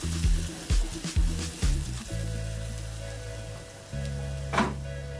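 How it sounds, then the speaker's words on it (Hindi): Ground masala paste frying in about three tablespoons of oil in a hot kadai for an Odia prawn thali, a close, steady sizzle with a few clattering stirs over a low, constant tonal hum. "दउची तापरे से सबू मसला गुड़ी को ऐड करी जो मसला आमे ग्राइंडिंग करथिली एबे ताको भल भाव में कषि नबा"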